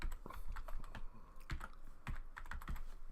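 Close, quiet clatter of typing on a computer keyboard, a steady run of quick uneven keystrokes with a few louder taps, heard alone.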